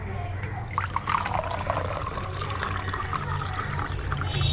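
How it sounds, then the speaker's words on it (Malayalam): Hot boiled milk poured into Mysore Pak chaya, a steady close liquid stream filling a cup for several seconds with a faint voice in the background. "നമുക്ക് ഇത്ര ഒഴിച്ച് നോക്കാം."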